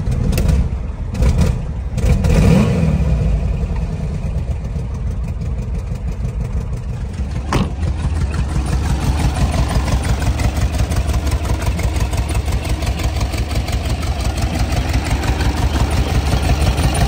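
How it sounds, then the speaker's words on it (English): A 1957 Porsche 356A engine idles steadily with a close, even mechanical rumble, a few brief clunks and a blip in the opening seconds before settling into a constant idle. "So the motor sounds great."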